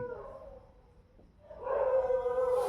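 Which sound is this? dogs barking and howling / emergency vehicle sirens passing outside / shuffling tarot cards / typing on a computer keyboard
dogs barking and howling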